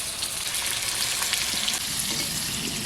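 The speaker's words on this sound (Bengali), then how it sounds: "মাংস রান্না করার আগে আমি আলুগুলোকে আগে ছাকা তেলে ভালো করে ভেজে নেব" Potatoes fry in deep oil, a loud, steady, close hiss of bubbling fat that runs on unbroken with no voices over it.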